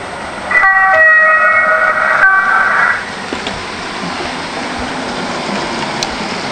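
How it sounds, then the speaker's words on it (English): Ringtone from a train-shaped phone sounding a train sound effect: a sustained, horn-like multi-tone chord lasting about two and a half seconds, then cutting off and leaving only quiet room noise. "Actually plays the train sound when it rings, chuff chuff chuff, all that kind of thing."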